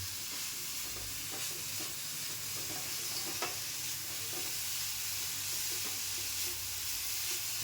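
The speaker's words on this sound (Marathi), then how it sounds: "सगळं व्यवस्थित ढवळून घ्यायचं ना हा एकत्र करून एकजीव करून घ्यायचं सगळं" A jaggery and coconut mixture for sweet ghavane hisses steadily in a pan, with soft, close stirring scrapes underneath and occasional faint clicks.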